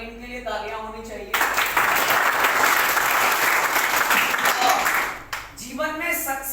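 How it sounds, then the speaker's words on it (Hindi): Audience applause for Doctor Ling breaks out suddenly and fills the room loudly and steadily for about four seconds, then cuts off as a voice resumes talking on both sides. "सबसे पहले डॉक्टर लिंग के लिए तालियां होनी चाहिए।"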